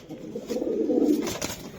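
A racing pigeon gives a single low, throaty coo while being held in the hand, close and clear over a quiet background.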